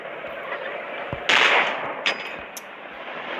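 Gunfire in the Polyfield video game, aimed at a tank: a sharp burst near the middle and a few lighter cracks over a steady rumbling game-noise bed.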